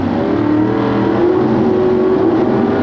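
A drag racing car's engine, the AC Delco Oldsmobile at a 1989 NHRA event, revs hard and steadily at high RPM, a loud, continuous, dense roar held throughout without any talk.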